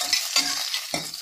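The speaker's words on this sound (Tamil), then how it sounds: "நல்லா ஃப்ரை ஆகணும்." Mutton frying in a pan gives a brief, steady sizzling hiss with a few soft scraping bursts, close and moderately loud, no voices.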